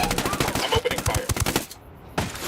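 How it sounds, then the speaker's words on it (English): Rapid bursts of automatic gunfire in a tactical shooter video game, close and loud, with sharp repeated shots that pause briefly before a final burst. "I'm opening fire."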